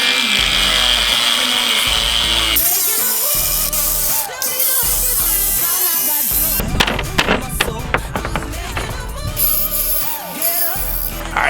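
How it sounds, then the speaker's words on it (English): An angle grinder cuts Hardie backer board for a tile surround, a loud, continuous, harsh whine and scraping roar held close for the whole stretch, with gritty bursts partway through and no talking. "I'm going with the grinder because it's going to be so much faster."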